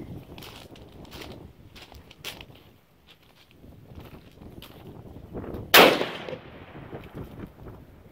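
A single loud, close gunshot from a Ruger M77 rifle chambered in .300 Winchester Magnum cracks out after several seconds of quiet outdoor shuffling and handling noise, then fades into a decaying echo.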